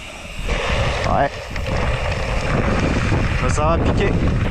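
Strong Mistral wind hits the microphone outdoors, a loud, constant roar and buffeting that runs through the whole clip, with a few faint whistles and a brief dip near the start.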